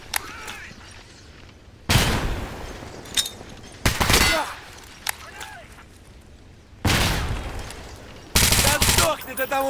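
Grenade blasts and bursts of gunfire in the video game Stalker GAMMA, loud sharp explosions and rapid shots in several separate bursts with quieter gaps between, a voice speaking briefly amid the fighting.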